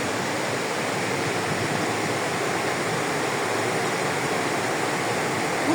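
Loud, continuous roar of a waterfall swollen by rain, dense and unbroken from start to finish.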